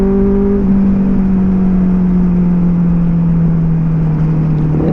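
Benelli 600i motorcycle with a loud aftermarket exhaust on a night ride, a close, sustained engine drone whose pitch slowly falls as the revs ease off, heard alone without talk.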